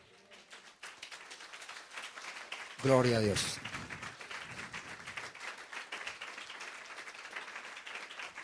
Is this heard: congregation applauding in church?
yes